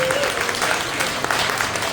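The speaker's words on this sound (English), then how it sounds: "I'd like to give a big round of applause for the Golden Cactus for letting us come here." Comedy-night audience at the Golden Cactus bar giving a round of applause: dense, continuous clapping from a full room, close and loud, with a few voices mixed in.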